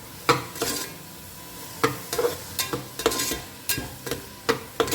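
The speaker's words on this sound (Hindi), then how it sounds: "अब इसमें डालते हैं बारीक चॉप किया हुआ कैप्सिकम।" Finely chopped capsicum sautéing in a pan for pav bhaji, with a steady sizzle broken by repeated scraping stirs of a spoon against the pan, close up and with no voices.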